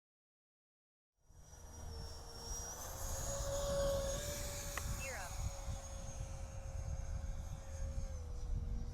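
An H-King FlyCat V2 radio-controlled jet with a 70mm 12-blade electric ducted fan, run on 6S power, flies past with a steady high-pitched whine over a rushing roar that starts abruptly and holds, as a pilot speaks briefly.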